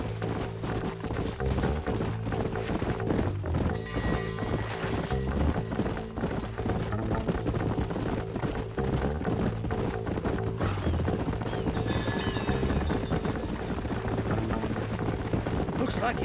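Horses in Red Dead Redemption clip-clopping steadily along with occasional whinnies, under a layer of game music and a low droning rumble throughout.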